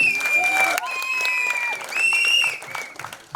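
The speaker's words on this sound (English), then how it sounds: "Big round of applause for her as well." An audience at a film trailer launch event applauds, with a broad wash of clapping under loud, high, sustained whoops and cheering voices that rise and fall before fading out.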